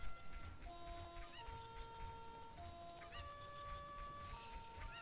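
Chickens (cuccos) clucking in Zelda: Ocarina of Time, repeated short clucks and squawks recurring at intervals over a bed of game music.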